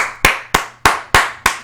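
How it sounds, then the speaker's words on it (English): Five crisp hand claps ring out in an even rhythm, each sharp, loud and close, with quiet gaps between and a faint low hum underneath. "Can we get a little bit of a clap going on?"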